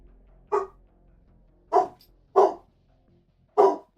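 A dog barking in the video game Arknights: four separate gruff barks, evenly loud and close, with pauses of roughly a second between them and near silence otherwise.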